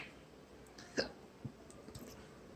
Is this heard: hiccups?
yes